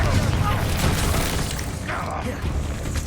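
Confringo blast spell in the game Hogwarts Legacy, a booming explosive burst under a loud rumbling wash of combat noise, with voices speaking over it.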